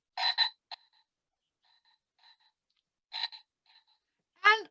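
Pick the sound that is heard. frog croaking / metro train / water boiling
frog croaking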